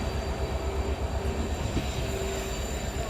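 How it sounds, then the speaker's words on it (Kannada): A goods train with wagons stands at the first platform of a station on the Bengaluru–Belagavi route, heard as a constant loud rumble with a faint tonal hum and no voices. "ಫಸ್ಟ್ ಪ್ಲಾಟ್ಫಾರ್ಮ್ ಒಳಗೆ ವ್ಯಾಗ್ನೈನ್ ಜೊತೆ ಯಾವುದೋ ಟ್ರೈನ್ ಇದೆ"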